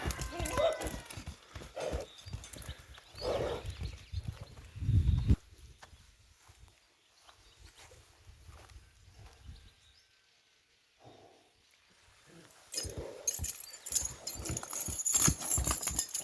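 Heavy draft horse hooves clop in a loose walking rhythm on hard ground as the animal is led out, fairly close and moderately loud, with people talking nearby and a quieter lull midway.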